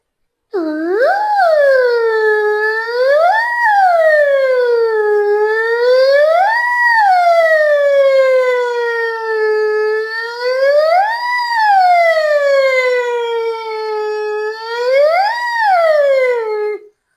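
A voice imitates an ambulance siren, a smooth rising and falling wail repeated about six times, loud and steady with no other sounds.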